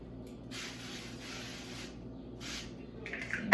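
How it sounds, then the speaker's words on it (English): A few short hissing bursts of an avocado oil aerosol cooking spray, close by, with brief pauses between sprays. "So I'm going to spray"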